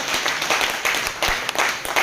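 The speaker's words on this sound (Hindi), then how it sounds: "एक बार दोनों हाथ ऊपर करके जोरदार वाली ताली बजाकर बता दीजिए सर" An audience at a Hindi-language training seminar claps hands in a steady, dense wash of applause, moderately loud and without talk.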